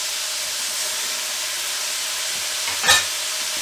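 Johnsonville sausage and onions cooking in a pot, a steady close sizzling hiss throughout with one brief clink or stir near the end; no voices.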